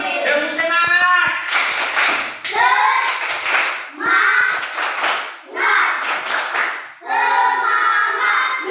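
A class of children performs a rhythmic 'tepuk semangat' clapping chant, with loud bursts of claps and shouted young voices in unison, close by.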